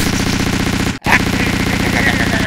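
A voice imitates a machine gun mounted on a Humvee, producing a steady rapid rattle of mouth-made bursts that breaks off briefly, then resumes just as loud and fast.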